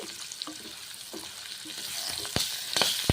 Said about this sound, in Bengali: কাঁচা লঙ্কা সাদা তিল ছেড়ে দিলাম ভেজে নিচ্ছি এইভাবে ভেজে নিচ্ছি